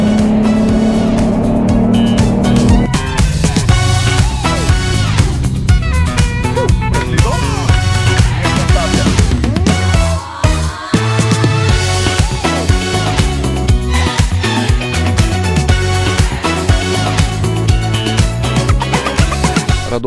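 A Chevrolet Camaro drives along, its engine droning and shifting pitch under steady road noise, loud throughout with a brief dip midway; no speech.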